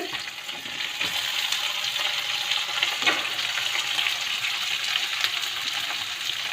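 Tomatoes and onions frying together in a pan, a steady close hiss of sizzling oil with a few faint stirring clicks, unbroken and even for several seconds without voices.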